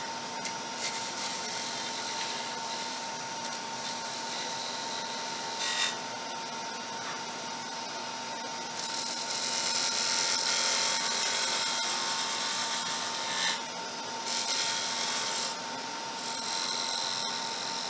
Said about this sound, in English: I'm watching where my cut is and I'm watching the bevel of the tool as it's doing that